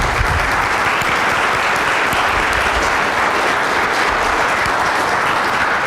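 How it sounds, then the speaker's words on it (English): A sustained wash of dense audience applause honoring military veterans, steady and fairly loud throughout, many hands clapping at once with no break. "Can we give them a round of applause"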